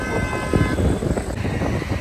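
A train sounds its horn near India Gate at night, a short, loud blast at the start that fades into rumbling rail and traffic noise.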